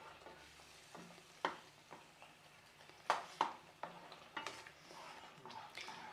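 A spoon stirs a rava and moong dal mixture in a pan for a Chettinad ukkarai sweet, giving faint, irregular scraping taps and a soft background sizzle.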